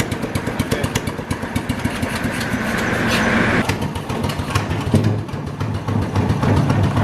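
A John Deere Gator 4x2 utility vehicle engine runs close by with a rapid, steady chugging idle, loud and continuous with slight surges in its rhythm.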